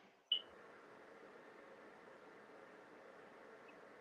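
A room heater gives off one sharp little click near the start, then keeps up a faint, steady hum of running air for the rest of the stretch, with no one talking.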